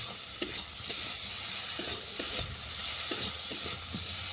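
Turmeric and salt being stir-fried in a pan, with a steady close sizzle broken by repeated scraping strokes of a spatula at an uneven rhythm, and no voices.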